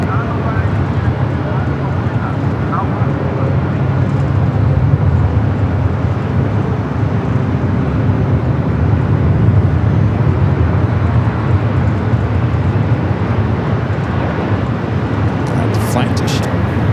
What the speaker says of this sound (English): we got Eva rolling down that 25 right